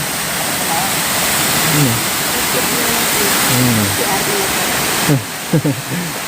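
A waterfall at a campsite roars as a steady, loud wash of falling water, while people talk and call out faintly underneath and briefly become louder near the end.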